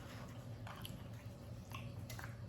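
Soft, wet chewing of apple skin from a caramel apple cheesecake bar, close to the mouth, with a few brief crisp bites and squishy mastication over a steady low background hum.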